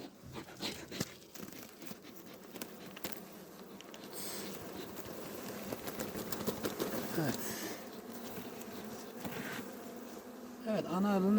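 Honeybees buzz loudly and steadily around an opened beehive in Adana in February, a dense continuous drone close by with faint handling rustles, and a voice briefly joins near the end.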